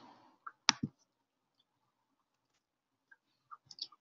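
A few crisp computer mouse clicks, close and quiet, spaced apart with near silence between them.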